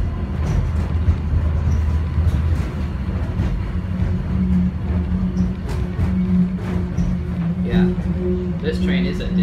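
A Disney-branded airport subway train carries riders to Terminal C, its low, steady interior rumble running continuously with voices and faint chimes on top.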